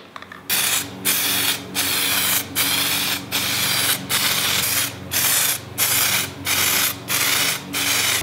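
Autodip aerosol coating sprayed from a can in a series of about nine even hissing bursts, each roughly half a second long with short pauses between, close and loud.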